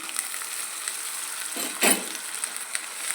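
Tomato pulp frying in a pan while cooking a prawn curry, a soft steady sizzle with a brief louder burst of crackle partway through.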